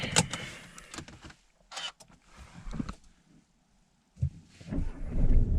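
A car engine cranks and starts on a road near a camping spot, preceded by scattered clicks and rustles, with the engine catching near the end and rising to a low idle.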